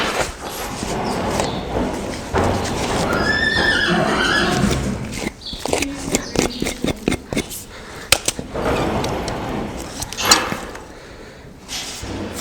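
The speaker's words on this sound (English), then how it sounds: "She's a big mare." A big mare, a former trail horse kept in a pasture for two years, snorts and whinnies close by, with hoof clatter and shuffling around her and no talk.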